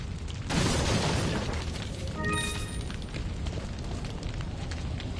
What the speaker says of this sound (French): il faudra esquiver parce qu'ils vont lâcher le gros caillou là-haut